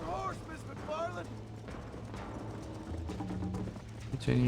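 Galloping horse hooves during a race in Red Dead Redemption, played on Nintendo Switch, beating in a steady rhythm under game music and other effects, with a voice speaking over the top.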